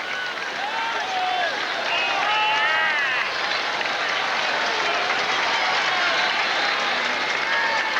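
A large tennis crowd at the 1990 U.S. Open applauds McEnroe in his match against Sanchez, a steady, dense wash of clapping and cheering that holds for the whole stretch, with whistles and scattered shouts rising above it.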